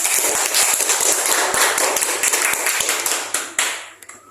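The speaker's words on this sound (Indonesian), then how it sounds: "Ya, tepuk tangan untuk." A classroom full of students clapping together, loud and close, with dense rapid hand claps that thin out and fade over the last second.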